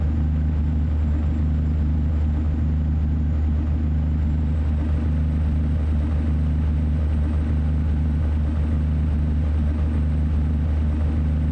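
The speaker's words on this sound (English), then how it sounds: "That engine's sort of interesting. I just don't get why it's so loud when we jump outside." Kenworth T680 truck engine in American Truck Simulator, heard from outside the cab: a loud, steady low idle drone with a constant faint high whine, unchanging throughout.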